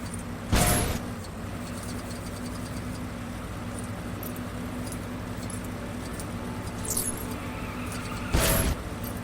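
A vehicle driving around in the video game Lego Batman 2 gives a steady low engine hum, with two brief louder bursts near the start and end, and no talk.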